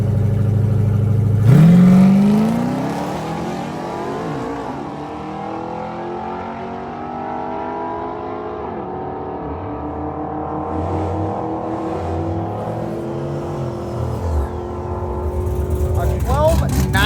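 LS-powered GMC and a Mopar car launching in a drag race, engines roaring loud and close with a rising rev sweep early on, then sustained mid-pitched drone fading slightly before another surge near the end.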